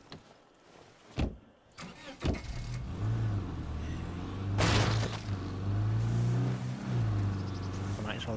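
A car engine in the zombie survival game State of Decay 2 cranks and catches after a door thump and rustling, then settles into a steady low idle hum that swells briefly, with a voice speaking over it.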